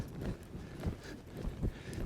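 Horse hooves loping in a riding arena, a soft repeating three-beat clip-clop rhythm of moderate loudness with no talk over it.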